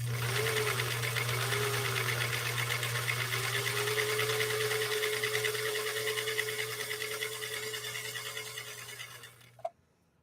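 A sewing machine runs a steady stitch on cam A, position 2, its loud even hum and rapid rhythmic clatter continuing for about nine seconds before slowing and stopping with a final click.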